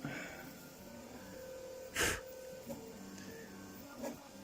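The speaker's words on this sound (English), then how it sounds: "So I'm printing 2 more of these at the moment." A 3D printer works on magnet motor parts, its stepper motors whining in a steady faint tone with shifting pitches, broken by a short breathy burst and a couple of soft clicks, with no speech.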